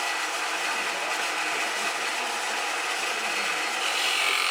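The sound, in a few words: scraping a wooden Christmas ornament on a lathe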